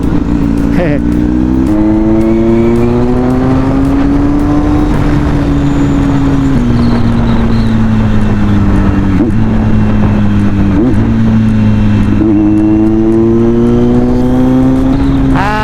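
A Kawasaki Z900 motorcycle engine runs loud and close, its pitch stepping up and down through shifts, with sharp throttle blips for rev matching between gears.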